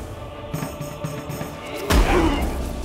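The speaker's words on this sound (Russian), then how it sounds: "И стандартный выстрел." A standard shot fired in the video game For The King lands as a sudden heavy thud-boom near the two-second mark, ringing out briefly over a backdrop of steady game music.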